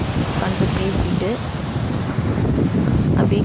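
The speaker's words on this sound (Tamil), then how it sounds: "இதோட காற்று சவுண்டும் அலை சவுண்டுமே ரொம்ப பயங்கரமாக இருந்தது." Wind and sea waves on Kodavilai beach near Tisaiyanvilai, a constant loud rush of wind buffeting the microphone over rolling surf, with faint voices in the background.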